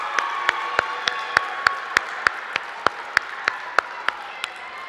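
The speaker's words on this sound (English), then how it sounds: "Can we have a round of applause for all the parents and family members who are here to support our students?" A school district concert audience claps for parents and family members, a crowd's steady applause with prominent sharp, regularly spaced claps from a nearby pair of hands cutting through the wash.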